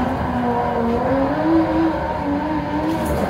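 A racing car drifts at Meihan Sportsland in a racing simulator. A loud, sustained engine note wavers and climbs in pitch with a faint tyre hiss underneath, with no talking.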